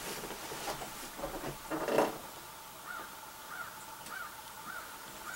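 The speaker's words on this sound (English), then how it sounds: "I don't know if you hear or not, the first crow." A crow caws several times in a quiet rural setting during deer season, first a few harsh calls and then a series of spaced, fainter caws from some distance, with light background ambience.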